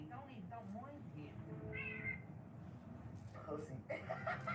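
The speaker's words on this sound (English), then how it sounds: "He's such a naughty cat." A cat meows a few times, its drawn-out calls close by and mixed in with ongoing conversation and some chuckling in a room.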